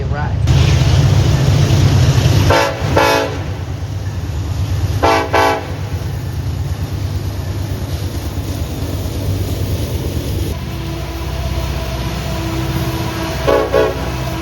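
A loud freight train rumbles past close by in Altoona, Pennsylvania, its horn blasting in several long, separate blows over the steady roar of wheels and cars.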